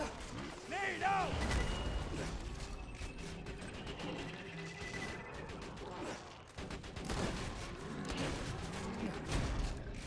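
Explosive bursts and gunfire crackle through a chaotic firefight in the Borderlands shooter, with a grenade blast among dense, continuous combat noise and voices mixed in.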